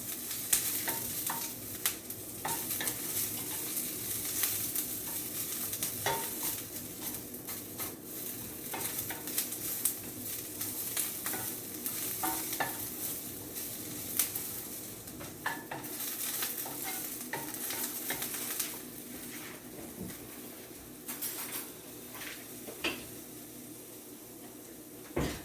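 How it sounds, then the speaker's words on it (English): Vegetables for vegan japchae, onions among them, charring and sizzling in a hot pan over high heat. A steady frying hiss runs throughout, with occasional stirring scrapes and clinks of a utensil against the pan. "It's just a quick char on the vegetables"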